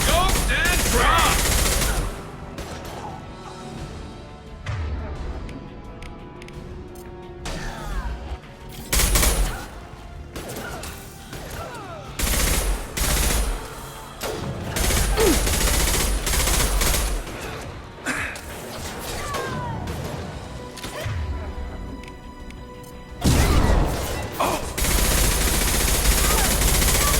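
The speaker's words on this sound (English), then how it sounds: "It just sounds exactly like the Mass Effect 1 sniper" Sniper rifle shots from Mass Effect 2 crack out at intervals amid a busy game battle, with broadband bursts of gunfire, explosions and chatter layered over a constant soundtrack.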